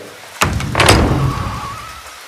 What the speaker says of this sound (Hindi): अचानक एक तेज धक्के से मेरे घर की दरवाज़ा खोल गया।